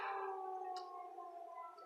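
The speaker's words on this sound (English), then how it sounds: "I'm trying to make a goddamn video and the damn siren goes off." A wailing siren holds a steady, slowly drifting tone at moderate distance, fading slightly as it winds down, with no talking.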